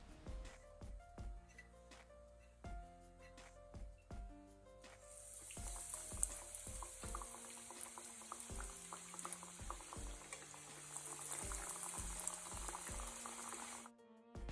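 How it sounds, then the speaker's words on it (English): Oil crackles and hisses steadily as Goan prawn rissois deep-fry, a bright continuous sizzle that starts partway through after some soft kitchen clatter and stirring sounds. "you can pop a wooden spatula in the oil and it will begin to sizzle"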